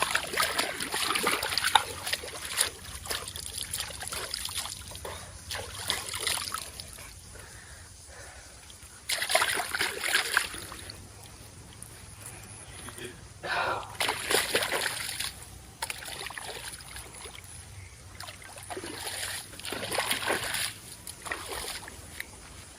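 Water splashing as hands and face are washed outdoors at dusk, in irregular bursts of sloshing and spattering with quieter gaps between, close by.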